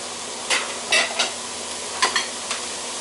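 Onions, carrots, celery and green pepper frying in a pan: a low steady sizzle runs throughout, broken by several sharp scraping stirs, close and moderately loud, with no voices.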